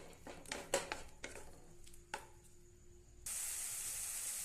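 Cut ripe banana pieces going into melted ghee and being stirred, with a few light utensil clinks and scrapes followed by a steady, loud sizzling hiss.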